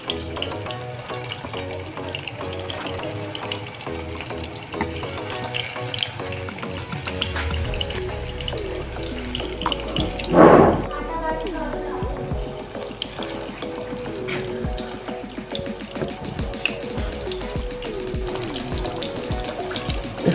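Chapli kabab fries in oil over medium heat, a steady close sizzle and crackle running for about twenty seconds with a brief clatter midway, no talking.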